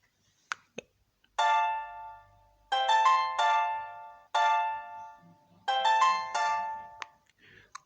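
A Smiley brand mobile phone plays its startup jingle: several bright, tonal chime phrases in a rhythmic sequence with short gaps, heard close and clear, preceded by a few soft clicks.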